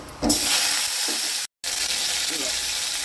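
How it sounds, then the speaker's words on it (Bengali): Black mustard seeds and dried chillies sizzling in hot oil, a loud, close, continuous crackling hiss with stirring sounds and a brief cut of silence midway. "দিয়ে এরপর দিচ্ছি কালো সর্ষে আর শুকনো লঙ্কা ফোড়ন"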